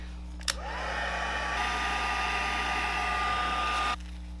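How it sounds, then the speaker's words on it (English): A heat tool blows steadily to melt embossing powder on a card, switching on with a click, then holding one loud, even whir with a high whine for about three seconds before clicking off. "And I'm going to heat this up with a heat tool"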